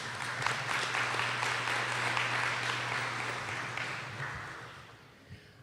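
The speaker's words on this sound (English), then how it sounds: "Let's clap out everybody working with our young people." Sustained audience applause at a community meeting on strategies against gun violence, a dense steady wash of many hands clapping that holds strong for several seconds, then gradually thins and fades toward the end.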